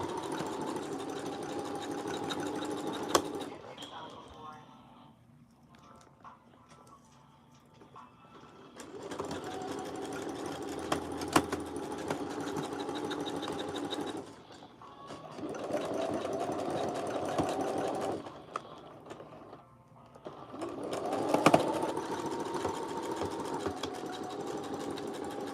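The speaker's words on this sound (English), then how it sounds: "Back stitching before I finish that stitch." A sewing machine back stitching fabric on a dress runs in several bursts of fast, even mechanical whirring, broken by short quiet pauses. The sound is close and steady, with an occasional click.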